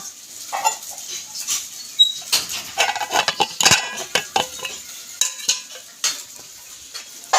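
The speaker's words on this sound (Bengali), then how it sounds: "একজন ওখানে কলপারে বাসন মাজছে" Dishes being scrubbed and knocked together at an outdoor tap, with irregular clinks, scrapes and clatters of pots and utensils, close and moderately loud, with no talking.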